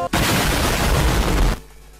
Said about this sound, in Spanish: Esa explosión, LOL.